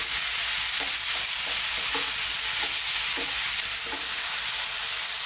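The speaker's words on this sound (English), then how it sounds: "Keep stirring pretty much all the time." Fresh mushrooms fry in a pan under constant stirring, a loud continuous close-up sizzle with soft, regularly spaced scrapes of the spoon, no voices.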